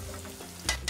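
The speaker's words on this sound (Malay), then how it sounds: "Saya nak goreng ayam." Chicken frying in a pan for buttermilk chicken, a steady close sizzle with sharper crackling bursts near the end.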